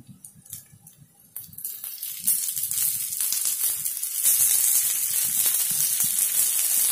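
Sweet corn paniyaram sizzles steadily in oil and ghee in a pan, a crackling frying hiss that starts soft and grows louder and denser toward the end, with no one speaking.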